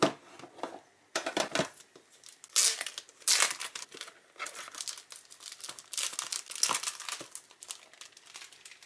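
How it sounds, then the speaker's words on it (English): Leather cover of a Midori Traveler's Notebook, 10th anniversary limited mini size, being opened and handled, with bursts of crinkling and rustling from wrapping and paper, close and fairly quiet, no talk. "let's open the leather cover first"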